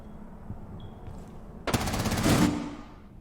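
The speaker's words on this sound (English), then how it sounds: "there's no way this guy could have reacted to that gunshot that quickly" Rapid automatic gunfire from a video game, heard as a dense, loud burst that starts abruptly partway through and then fades, following a quieter stretch of faint ambient noise.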